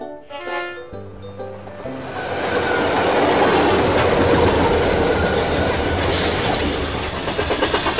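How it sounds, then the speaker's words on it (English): A train rumbles past up close, loud and steady, with rhythmic clacking of wheels on the rails and a brief squeal near the end. "Train!"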